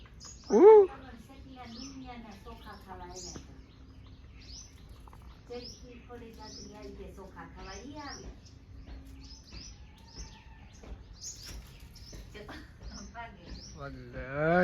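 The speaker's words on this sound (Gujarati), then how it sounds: "મોરલા બોલે." Peacocks call outdoors in rural village surroundings, a sharp loud cry near the start followed by scattered fainter chirping calls, with quiet voices and background ambience underneath.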